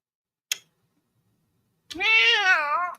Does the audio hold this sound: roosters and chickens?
no